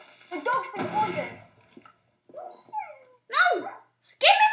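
A dog gives a series of short yelping barks and whimpering cries, spaced apart with brief pauses, fairly close and clear.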